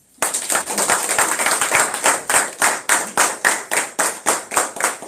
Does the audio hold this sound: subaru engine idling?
no